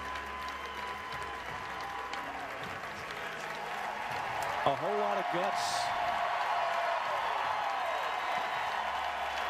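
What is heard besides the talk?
baseball stadium crowd cheering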